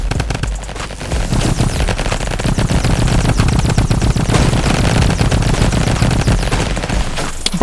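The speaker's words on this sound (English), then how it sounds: "Bro, why is there a shot?" Sustained rapid automatic gunfire from a Tommy gun in the Roblox game Flag Wars, loud and continuous from start to finish with dense overlapping shots and no talk.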